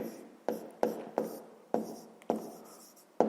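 Pen writing on paper during a fifth-grade maths exercise, heard as a string of short scratchy strokes in quick bursts with brief pauses between them, close and fairly quiet.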